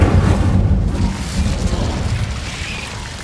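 Incendio fire spell cast in the Hogwarts Legacy video game: a loud deep whooshing burst of flame that starts at full strength and slowly fades with a crackling tail.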